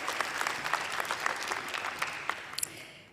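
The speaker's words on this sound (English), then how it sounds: "Give them a big clap" Audience at a health conference applauding a community team, a fairly distant, moderately loud patter of many hands with a few sharper individual claps, fading slightly at the end.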